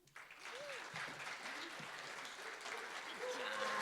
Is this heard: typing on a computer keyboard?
no